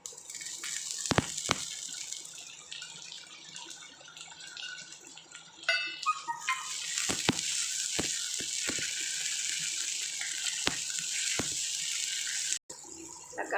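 Onions, tomato and curry leaves frying in a pan for a vegetarian fish curry; a steady, hissing sizzle with occasional sharp clicks and bursts of crackle, moderately quiet and close, without speech.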